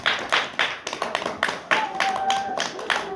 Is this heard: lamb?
no